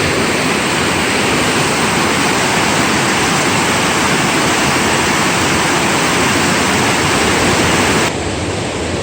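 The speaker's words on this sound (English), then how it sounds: "Everything is still flowing at very high water levels today." Loud, constant roar of Kephart Prong stream at high water in Great Smoky Mountains National Park, a dense rushing wash that never lets up, heard close with no voices.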